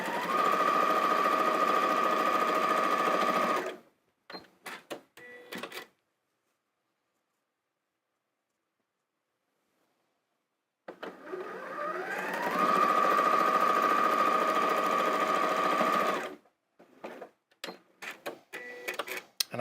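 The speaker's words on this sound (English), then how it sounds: "So I'm going to just do these while I'm at the machine." A sewing machine stitches quilt block seams in two long steady runs of fast mechanical whirring, with a silent gap between them and scattered short bursts of stitching and handling noise.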